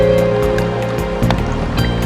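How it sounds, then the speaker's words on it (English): White water rapids rush through a rocky river bend swollen by several days of rain, a loud, close, continuous roar of churning water. "big sweeping white water"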